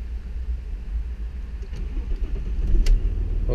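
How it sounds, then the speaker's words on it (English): An Audi Allroad A6 C5 with a 2.5 TDI diesel engine turns over and settles into a low, steady rumble, then swells into a louder rev toward the end, heard close up with no talking. "that is how the diesel engine is started and revs"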